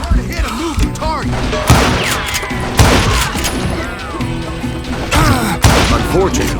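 Gunfire in the Western shooter Call of Juarez: Gunslinger: loud, sharp shots burst out in irregular clusters, with thuds and impacts between them and a low rumble of game sound underneath.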